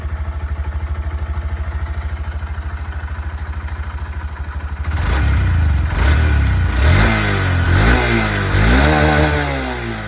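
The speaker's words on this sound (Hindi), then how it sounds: "और आवाज़ आप लोग सबसे पहले यहाँ पर SP125 की सुन लीजिए।" A 2025 Honda SP125 motorcycle engine idles with a steady, close putter, then is revved several times in rising and falling bursts that grow louder and rougher.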